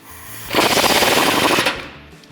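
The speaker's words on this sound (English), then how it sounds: "my 24mm socket on my impact gun, and I'm gonna loosen this guy up." An impact gun fitted with a 24mm socket hammers loose a suspension bolt on a 2019-2023 RAM 1500 during a lift kit install, one loud rapid rattling burst of about a second, close up.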